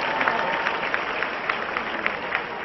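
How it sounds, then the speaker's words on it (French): An audience at a comedy show applauds, a dense, steady clatter of clapping with scattered sharper claps that carries evenly throughout, with no voices standing out. "Si c'est bon, on applaudit très fort pour moi, s'il vous plaît."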